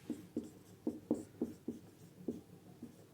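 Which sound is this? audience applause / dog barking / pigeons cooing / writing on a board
writing on a board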